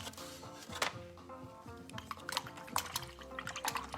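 Water splashes and trickles as a paintbrush is rinsed clean after acrylic painting, mixed with soft clinks and taps against a container, close and fairly steady with brief louder swishes.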